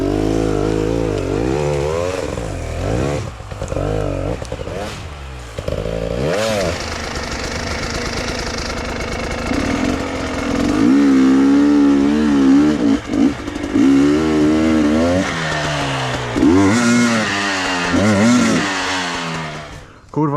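An enduro motorcycle ridden in first gear on a rough spoil-heap trail, its engine loud and close, revving and bogging in uneven surges throughout, with someone talking over it.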